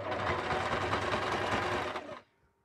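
A sewing machine runs steadily through a zigzag stitch along the edge of fabric for a beginner's Christmas stocking, loud and close, then stops abruptly near the end.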